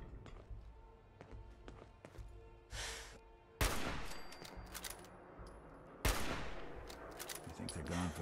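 Sharp gunshots fired at zombies in Fallout 4, scattered single cracks early then heavy loud bursts of rapid fire with ringing tails, close and dominant.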